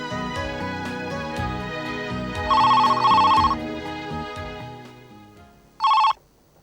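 A telephone rings in two electronic bursts, the first long and the second brief, over a soft musical background.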